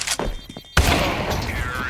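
A bomb explodes in Counter-Strike 2 during a collegiate esports match, arriving as a sudden loud boom with a sustained roaring rumble after a stretch of quieter game sounds and commentary.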